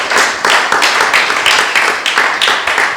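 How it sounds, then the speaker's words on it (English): A gallery audience at a photobook salon applauds steadily for about three seconds, a dense, loud wash of many hands clapping with no talk over it. "Let's give her a round of applause."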